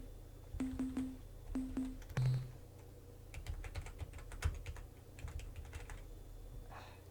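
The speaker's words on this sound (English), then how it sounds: "I've pressed, I swear to God, every button on this damn keyboard." Keys on a computer keyboard are pressed in scattered bursts and single clicks during a Star Control II game, close and crisp, with short electronic game tones early on.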